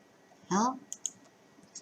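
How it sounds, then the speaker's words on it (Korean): A computer mouse clicks on the Windows Start button: a few faint, sharp clicks spaced about a second apart, following a brief vocal sound. "시작 버튼 한번 눌러보도록 할게요."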